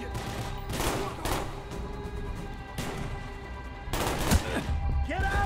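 Enemy weapons in Call of Duty: Black Ops fire repeated loud bursts of automatic gunfire in an uneven rhythm, close and dense, with a few sharper impacts near the end.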